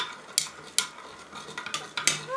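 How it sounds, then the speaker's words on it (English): A chemical reaction being stirred in a glass beaker, with sharp clinks of a stirring rod against the glass at irregular intervals over soft swishing liquid. "Alright, keep stirring."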